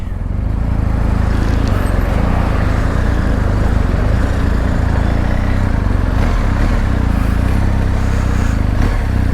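A 2023 Triumph Tiger 1200 GT motorcycle engine runs steadily nearby, a loud, even rumble that holds at the same level throughout with no talk over it.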